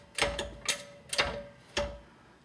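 A floor jack being pumped to raise the rear control arm of a Ford Mustang, four evenly spaced metallic clicks and clunks of the mechanism, close and moderately loud.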